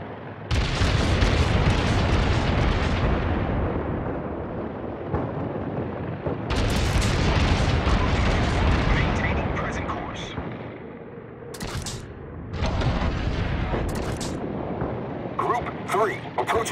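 Incoming enemy fire and explosions in World of Warships, with a Japanese Hosho carrier under attack: heavy booms and rumbling blasts roll on continuously and loudly, with voices speaking in and out among the blasts.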